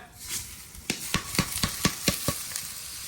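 Washed raw rice is stir-fried in a pan with fragrant aromatics for chicken rice: a soft sizzle runs underneath while about eight sharp, regular scraping strokes of a spatula follow one after another, close and clear.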